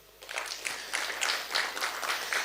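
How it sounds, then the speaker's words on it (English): Audience at a disability inclusion forum clapping in scattered bursts, moderately loud claps forming an uneven patter that swells and fades over a few seconds, with no speech over it. "If you're happy, any clap once."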